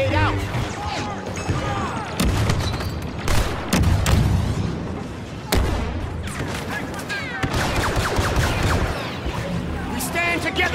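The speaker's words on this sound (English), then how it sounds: "Grenade out!" Grenade blasts and rapid gunfire fill a Star Wars Battlefront II battle. Loud cracks and booms come in dense bursts, and game voices shout over the din.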